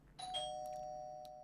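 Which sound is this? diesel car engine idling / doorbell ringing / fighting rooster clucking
doorbell ringing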